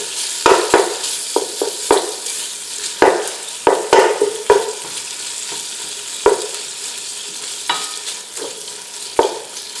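Bacon frying and browning in a pot, a loud, continuous close sizzle punctuated by sharp pops and spatters at irregular intervals.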